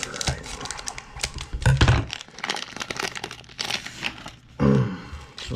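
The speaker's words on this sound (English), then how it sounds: "Some scissors, we'll cut this bad boy open." Scissors snip and crinkle through the plastic foil wrapper of a Panini trading card pack, giving close, crisp cutting clicks and rustling with a couple of louder crackling bursts.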